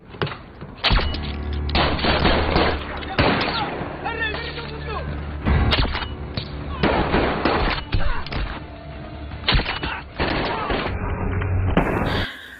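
Gunfire in a film scene, a dense run of sharp shots and heavy booming blasts mixed with loud soundtrack action, continuous and close.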